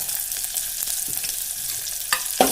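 Onion, curry leaves, cumin and ginger garlic paste sizzle steadily in a pan, close and fairly loud, with a few sharper pops and stirring scrapes near the end.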